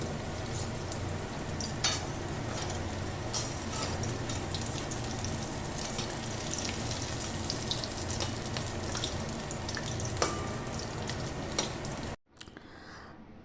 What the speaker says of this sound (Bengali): প্রন ফিঙ্গারগুলো দিয়ে দেব দিয়ে এবার ভালো করে এপিট ওপিট করে ভেজে নেবো